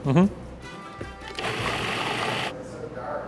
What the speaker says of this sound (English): just plopping a stick of butter into a blender with meat